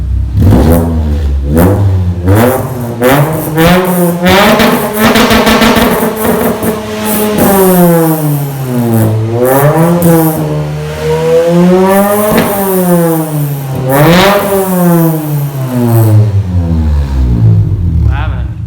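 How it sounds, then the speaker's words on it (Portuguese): A Renault Sandero RS engine revs repeatedly through a loud, raspy sport exhaust, pitch climbing and dropping in a series of throttle blips, close and steady throughout. "quando tu acelera o carro, ele grita bastante, mas é aquele grito estúpido, né, sem timbre nenhum"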